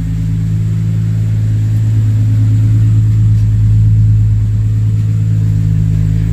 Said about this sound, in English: As you can hear, that's what the exhaust sounds like.